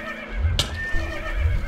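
A horse in the video game Minecraft, running the Technic modpack, gives a short sharp whinny over faint hoof clops, close and clear in a brief burst.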